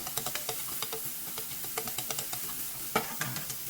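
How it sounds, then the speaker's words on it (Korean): Minced meat stir-fried in a frying pan, with a soft sizzle under a quick, regular scraping and tapping of a utensil stirring the meat, fairly quiet and close, no speech. "다진 고기가 이렇게 볶아져서 익혀주면"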